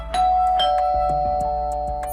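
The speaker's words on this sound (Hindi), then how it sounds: "अरे घंटी बजी है, लगता है कोई आया है" A two-tone electronic doorbell chime rings out clearly and repeats, each tone ringing on briefly, with no voices.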